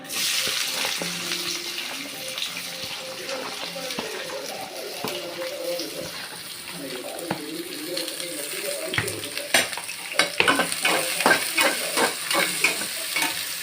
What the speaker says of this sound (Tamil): நம்ம வெட்டி வச்சுருக்கிற சின்ன வெங்காயத்தை போட்டுக்கலாம்